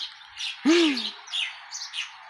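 Small birds chirp in bright, quick bursts, with one lower swooping call standing out early on; nearby and fairly loud, no talking.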